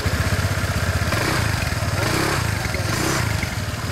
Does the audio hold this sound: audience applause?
no